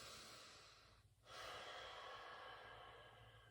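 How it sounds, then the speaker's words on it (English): Slow, audible breathing during a hip-opening yoga flow, a long close-up inhale and exhale with a short pause between breaths, soft and steady with no talking. "So I'm inhaling up and I'm exhaling down"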